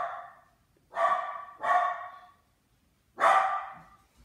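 A dog barks nearby, three separate sharp barks spaced unevenly, the first two close together and the third after a short pause, alone in an otherwise quiet room.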